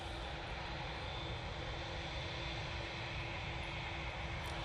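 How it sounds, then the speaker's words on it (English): Qatar Airways Boeing 787-9 Dreamliner departing Manchester for Doha, a steady broadband jet engine roar that holds evenly at moderate distance without a break. "It is the Qatar 787-9 Dreamliner going back to Doha."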